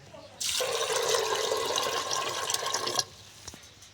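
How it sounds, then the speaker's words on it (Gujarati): Water pours into a pressure cooker in a steady rushing stream for about two and a half seconds, then stops abruptly, leaving quiet background. "પાણી પણ આપણે નાખી દીધું છે"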